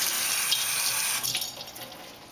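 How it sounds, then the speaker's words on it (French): A kitchen tap runs steadily over fresh parsley being rinsed, a close, continuous splash and gush that slightly breaks up and thins toward the end. "je vais rincer un peu."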